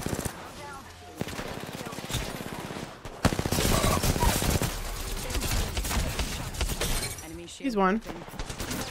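Gunfire in the Apex Legends video game: dense bursts of rapid automatic shots rattling through the middle of the clip, with players talking excitedly over the top.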